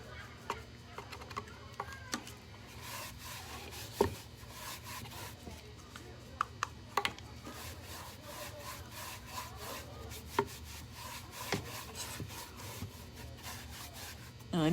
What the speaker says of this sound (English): I want to be a little heavier handed with the wax than I can be with the rag.